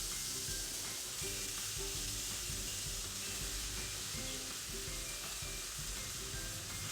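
Tomatoes added to a pan of frying radish and peas sizzle in a steady, loud hiss, with light stirring scrapes underneath and no voices.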